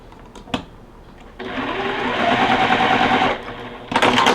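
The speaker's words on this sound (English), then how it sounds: "So we're just going to sew our middle pieces together" A sewing machine stitches quilt block middle pieces together in one steady, loud run of about two seconds, after a few brief handling clicks, then stops and the fabric is shifted.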